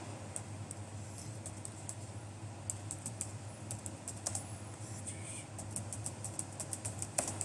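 Fast, irregular clicking of typing on a computer keyboard, light sharp keystrokes in bursts over a steady low hum, close and fairly quiet with no voice.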